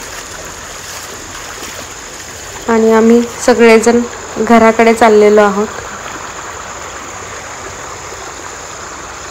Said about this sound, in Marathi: पावसाचं पाणी अगदी खळखळ खळखळ वाहत आहे रस्त्याने